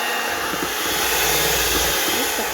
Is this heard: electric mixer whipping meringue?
yes